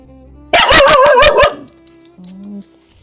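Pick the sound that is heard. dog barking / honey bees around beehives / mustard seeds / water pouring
dog barking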